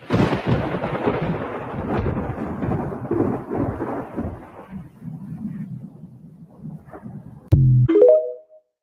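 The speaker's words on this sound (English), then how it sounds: "Lightning storm, man." Thunder from a lightning storm rolls and rumbles for several seconds, fading to a low murmur before a sudden sharp crack and heavy boom close by near the end.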